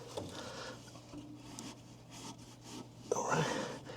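Cloth rubbing and wiping over the nozzle and electrodes of a home heating furnace, soft scuffing strokes over a low steady hum, with a sharper scrape near the end.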